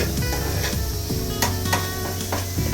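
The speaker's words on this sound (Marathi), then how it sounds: "त्याच पॅन मध्ये मी भुर्जी करणार आहे" Bhurji sizzling steadily in a pan while a spatula scrapes and stirs it, close and continuous frying hiss with repeated clinks of metal against the pan.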